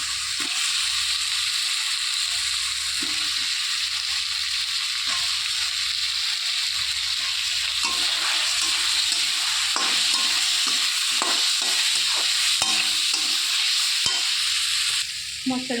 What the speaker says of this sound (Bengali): এখানে সেদ্ধ করা আলু আর কচুটাকেও দিয়ে দেবো মশলার